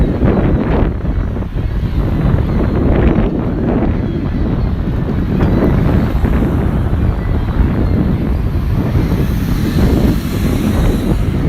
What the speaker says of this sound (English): the wind is something else